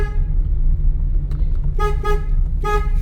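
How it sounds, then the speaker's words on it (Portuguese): A car horn toots several times in short bursts, loud and close, over a steady low engine and road rumble. "Buzina para ele sair da pista."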